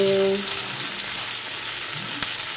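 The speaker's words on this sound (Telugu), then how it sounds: "దొండకాయలు వేగాక శనగల పొడి వేసేసుకుంటే దొండకాయ ఫ్రై రెడీ." Ivy gourd frying in a pan, a steady close hiss and crackle of hot oil running throughout, with a brief tone at the start.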